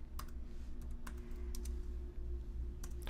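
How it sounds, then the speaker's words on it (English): A handful of separate keystrokes on a computer keyboard as a short Java version command is entered on a Mac, scattered and fairly close over a low steady hum, no voices. "Well, the way that we just did, you type in"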